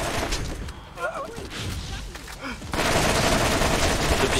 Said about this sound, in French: Qui c'est qui me tire dessus?